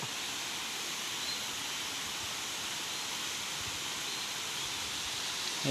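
A waterfall roars steadily as a dense, unbroken wash of rushing water, close and constant with no voices.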